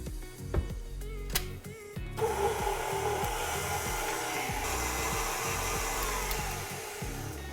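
Electric mixer creaming together dough ingredients for cinnamon rolls, a steady motor whir with rhythmic ticking knocks as the beaters turn, fairly loud and close, no voices.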